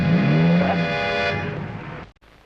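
A car pulls away, its engine note rising and then fading over about two seconds before it cuts off, set in a classic Tamil film scene.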